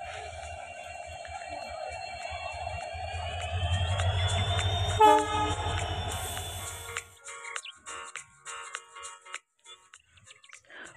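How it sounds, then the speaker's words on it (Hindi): A passenger train rumbles loudly past at Jagiroad railway station in Assam, India, and a long horn blast sounds over it. The rumble then cuts off, leaving sparse clanks and knocks trailing away. "और ये जाती हुई जागीर उठ रेलवे स्टेशन के ओर पैसेंजर ट्रेन जाती हुई देख सकते हैं, जा रहा है।"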